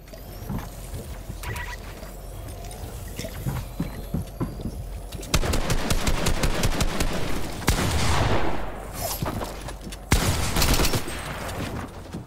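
In Fortnite, a newly added weapon fires in loud rapid bursts. Dense volleys start about midway and come again near the end over steady game noise.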